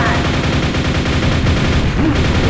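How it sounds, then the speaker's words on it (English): Rapid gunfire from weapons in the video game Quake, a dense, loud stream of repeated shots filling the whole span with no break, with faint voice-like sounds mixed in. "It's not shooting at him because I'm just shooting a floor."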